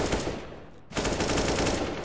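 AK rifle fire in a video game, rapid automatic bursts that cut out briefly, then resume in a fast, even rhythm, loud and close with almost no talk over it.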